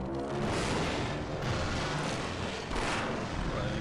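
Gunfire from a weapon in the Half-Life video game, a run of heavy booming shots that blend into a continuous, dense barrage at moderate level.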